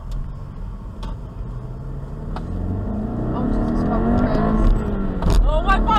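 A slow four-cylinder car driving with its engine droning and building as it accelerates, a steady close rumble inside the cabin, with people talking over it.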